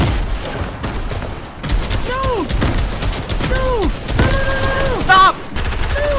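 Bursts of gunfire from a Fortnite match, with rapid shots crackling and overlapping as a fight breaks out, mixed with game effects and several players shouting over the shooting.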